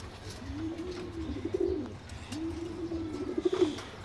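Pigeons, including young birds, coo in a backyard loft: two soft, rising-and-falling coo phrases, moderately close, over faint background noise.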